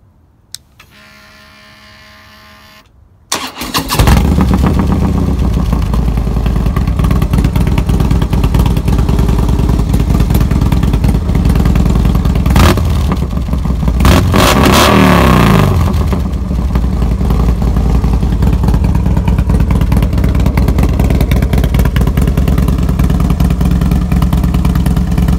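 A Harley-Davidson Low Rider S Dyna motorcycle starts after a few quiet seconds, then its engine runs loud and close with a rough, pulsing idle and occasional revs, with no talking.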